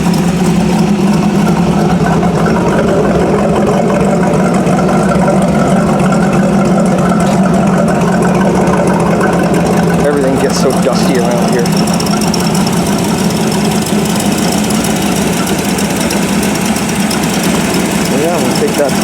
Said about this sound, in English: I got my Model A sitting here running